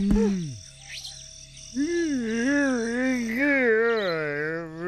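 A voice imitates a frog croaking in an animated story, with a few warbling, drawn-out croaks following a brief opening call, close and fairly loud.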